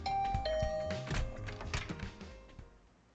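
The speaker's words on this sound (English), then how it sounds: "I rang the bell by the side of the door" A doorbell chime sounds in the video game The Hundred Line: Last Defense Academy, with a clear two-tone ring outside a dormitory room door, followed by soft thuds and fading room tone.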